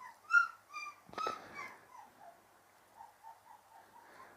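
A puppy whines in a string of short, high-pitched whimpers and yips, with a brief rustling bump partway through, nearby and fairly quiet with no talking.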